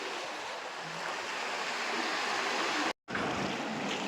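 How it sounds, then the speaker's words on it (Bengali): Sea waves rolling ashore at a Bay of Bengal estuary in the Sundarbans, a continuous loud wash of surf with wind noise, briefly cut by a momentary dropout. "এখন দেখুন জলের ঢেউটা কিভাবে আসছে"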